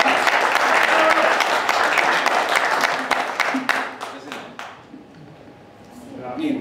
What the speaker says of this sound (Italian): grazie Ciurleo, un applauso.